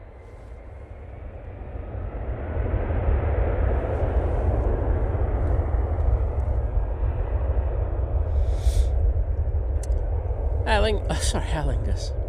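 A Kuwait Airways Airbus A330-800neo airliner roaring past, a broad engine rumble swelling over the first few seconds and holding loud and steady, with birdsong-like chirps near the end.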